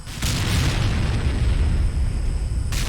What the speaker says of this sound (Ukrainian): Постріл. Ще один знищений танк.